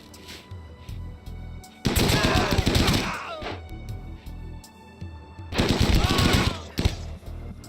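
Automatic gunfire in the colony-building video game Rimworld comes in two loud, dense bursts of rapid shots, each lasting a couple of seconds, with quieter game sounds between them.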